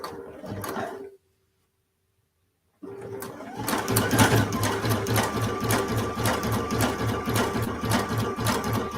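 A Sashiko sewing machine stitching two quilt units together, a short burst of needle clatter, a pause of silence, then a long steady rapid mechanical chatter running close and loud.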